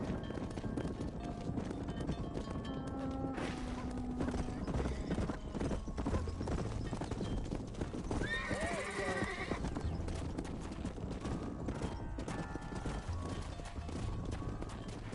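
Many hooves clatter continuously as horses are herded into a pen, with occasional whinnies and livestock calls over a busy, steady Red Dead Redemption game soundscape.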